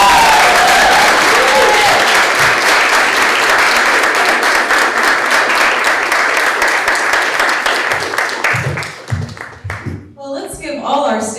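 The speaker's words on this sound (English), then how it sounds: "let's give all our students another round of applause" An audience at an end-of-year student creative writing event applauds the students, a full, sustained round of clapping that eases off near the end into a few scattered claps and murmured voices.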